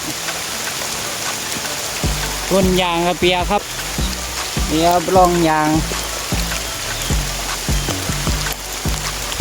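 Heavy rain patters steadily in the background at a rubber tree plantation during tapping while someone talks, his voice rising and falling over the continuous hiss.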